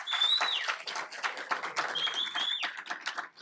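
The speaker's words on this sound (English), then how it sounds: "one more statewide round of applause for everybody" Audience at a town hall event clapping in a brisk, uneven patter, fairly close and moderately loud, with a faint high whistle or squeak cutting through now and then.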